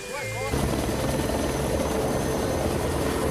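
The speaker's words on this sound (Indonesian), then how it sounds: "sebuah helikopter terbang rendah membawa 3 drum BBM untuk keperluan perusahaan Canadian Gold" Helicopter flying low while carrying fuel drums for a gold-mining company: a loud, dense rotor and engine roar that swells in after a short opening and holds steady and close throughout.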